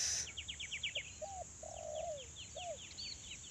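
Zebra doves (tekukur) coo softly in the open during a hunting outing, several short rising and falling notes spread across the clip, faint and somewhat distant over steady high insect buzz and quick chirping from other birds.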